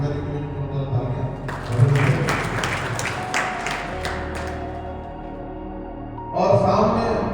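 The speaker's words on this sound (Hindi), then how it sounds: "प्रशासनिक अधिकारी के लिए जोरदार तालियां।" An audience at a Mukam Marathon gathering applauds an administrative officer, a loud burst of many hands clapping in an echoing space that swells, then fades, with a voice over a speaker system near the end.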